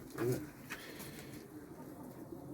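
A soft, low pigeon coo sounds near the start, faint among quiet background noise and muffled voices.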